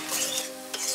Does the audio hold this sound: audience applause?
no